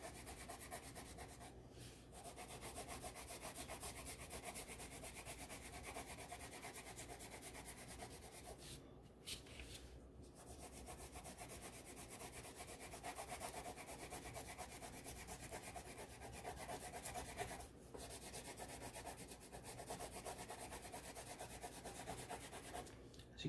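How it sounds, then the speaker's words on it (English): Crayon shading on paper gives a soft, continuous scratchy rubbing up close, steady and quiet throughout with only a few brief pauses between strokes. "I'm overlapping, and as you can see, my crayon marks are much closer together in this second one"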